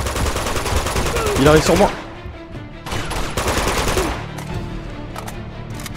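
Rapid automatic gunfire from an Uncharted 2 firefight, loud bursts rattling over a couple of seconds, then another burst after a short gap, with someone speaking French over the shooting.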